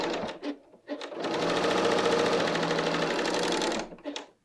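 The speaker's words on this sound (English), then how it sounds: "And work your way up to the underarm." Sewing machine, a BERNINA L 890, stitching a knit dress side seam up toward the underarm, running in one steady continuous burst of about three seconds. A few short stitch taps come before it and after it, all close and clear with no talk.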